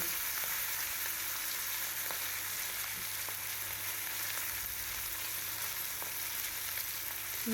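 Turmeric-salted fish frying in hot oil, a dense, even sizzle that holds steady throughout with faint occasional ticks, close and fairly loud.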